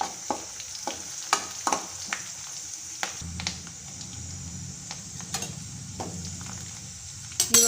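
Garlic, curry leaves and coriander fry with onion in a pan, producing a continuous sizzle broken by rhythmic spatula taps and scrapes against the pan, close up with no speech.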